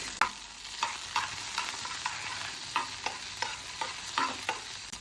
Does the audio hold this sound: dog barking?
no